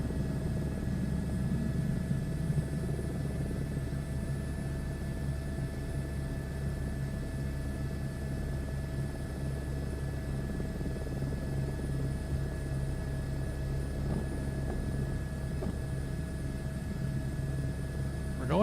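Simulated helicopter in flight in Microsoft Flight Simulator 2024: a continuous engine whine layered over a low rotor throb, steady and moderately loud for nearly twenty seconds with no speech.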